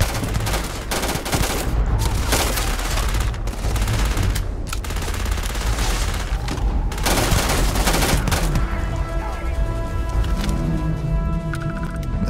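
Loud, dense rifle gunfire in the space video game Starfield, rapid overlapping shots during a firefight against a group of spacers, followed by ringing, humming game sounds as the shooting dies down.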